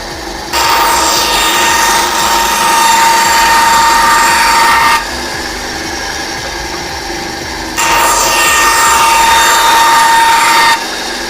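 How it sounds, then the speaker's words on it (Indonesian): A power saw cuts 5 mm plywood for a handmade RC yacht in two loud sustained passes with a high whine, separated by a lower idling hum. "Saya akan potong menggunakan benzo ya, biar lebih bagus hasilnya."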